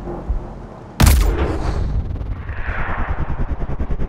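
A single sharp sniper rifle gunshot in the video game Sniper: Ghost Warrior Contracts cracks loudly, followed by a rolling echo and rapid rhythmic mechanical clatter fading beneath it.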